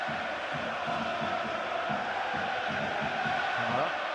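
A steady roar from a packed football stadium crowd at Aston Villa vs PSG in the Champions League, a dense continuous wash of noise with a commentator talking over it.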